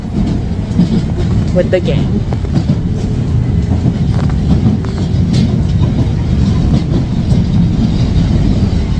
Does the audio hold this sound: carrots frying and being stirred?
no